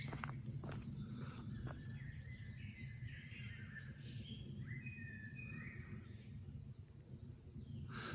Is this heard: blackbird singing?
yes